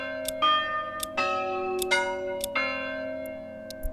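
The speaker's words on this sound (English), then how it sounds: "It's a bunch of different bell sounds." Church bells ring in the Manor Lords city-building game, several overlapping strikes at irregular intervals with long ringing tails, fairly clear and alone.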